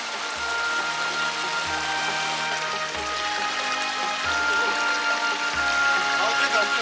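Stream water pours past a stone weir in a steady, continuous rush, close and fairly loud, with a broad hiss and no clear breaks.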